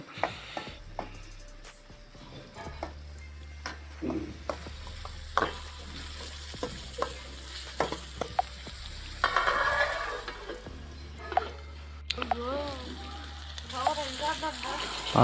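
Onions frying in hot oil in a pan for a puffed-rice tempering, a steady close sizzle with clinks and stirring scrapes throughout, under intermittent speech.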